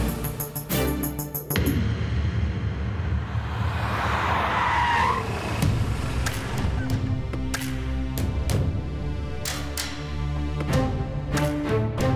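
A car drives off with a loud tire skid and engine surge, continuing as busy vehicle noise with rhythmic knocks and clatter, loud and close throughout.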